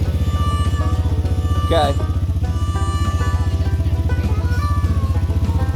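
A Honda Fourtrax 300 ATV with new tire chains runs through snow, its engine a close, steady putter throughout, with a brief rattle and a person speaking briefly over it.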